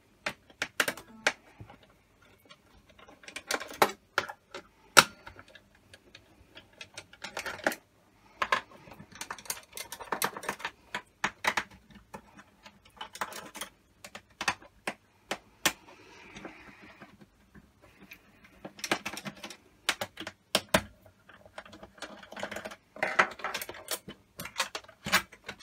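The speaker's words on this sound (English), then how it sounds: "Torx T10 screwdriver. All the green screws have got to come out." A Torx T10 screwdriver working screws out of an Xbox One S console: irregular clusters of small clicking and ticking, quiet and close, with pauses between bursts and no talking.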